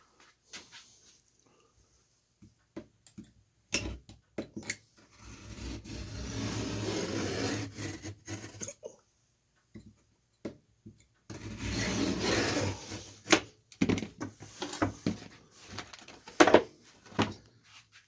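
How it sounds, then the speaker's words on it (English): Fiskars Pro utility knife with the blade extended, slicing through material in a few dry, rasping cuts, each a short scraping burst close by, separated by quiet pauses and small clicks. "Makes a nice cut."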